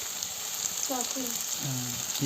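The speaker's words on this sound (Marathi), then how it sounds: "टमाटर टाकून घेतलंय आणि मस्त आता पुन्हा परतून घ्यायचं" Tomatoes sautéing in a pan over a wood-fired stove, a steady close hiss and sizzle throughout, with a voice briefly speaking over it.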